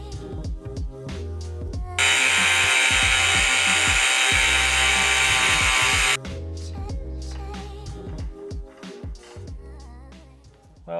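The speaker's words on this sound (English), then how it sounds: "Mark the threads on the inside, ready to lop off with the angle grinder" Angle grinder slicing through threaded rod for a DIY boat launch system, a loud, steady high-pitched screech for several seconds, set between bursts of workshop clatter and tool handling before and after.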